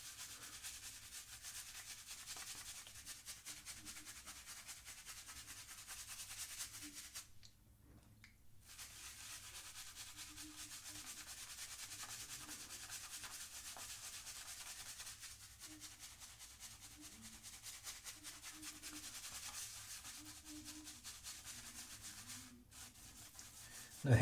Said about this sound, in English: Head Slick shaving cream lathers up absolutely amazingly well